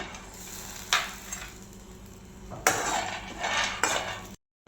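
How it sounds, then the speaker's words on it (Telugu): Peanuts rattle and scrape in a hot pan, with bursts of stirring and clinking against the metal over a steady faint sizzle. "ముందుగా పల్లీలను వేయించుకోవాలి."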